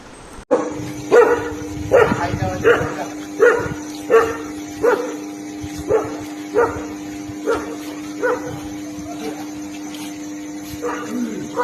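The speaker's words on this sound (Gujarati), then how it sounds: "અચાનક જ કૂતરાનો ભસવાનો અવાજ આવવા માંડે" Dogs bark at night in a village street in the Gir region, a steady run of repeated barks about once a second. A constant hum and faint whines sit underneath.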